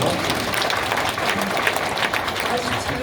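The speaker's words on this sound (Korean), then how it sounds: "박수 한번 쳐주시고요" A crowd applauds at a political party rally in Jeju, a dense wash of clapping that holds steady for a few seconds, with some voices mixed in.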